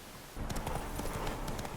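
A horse gallops in The Witcher 3: Wild Hunt, its hooves kicking in suddenly after a short quiet moment and pounding in a quick, close, steady rhythm until the end.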